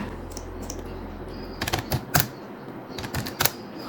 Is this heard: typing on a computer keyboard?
yes